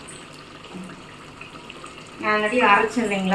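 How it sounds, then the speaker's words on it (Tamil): Water for biryani rice is poured into the cooking pot, a splashing, gurgling stream that starts partway through under a woman's speech, after a stretch of quiet kitchen background. "இப்போ நம்ம இதுக்கு தேவையான தண்ணி ஊற்றிக்கலாம்."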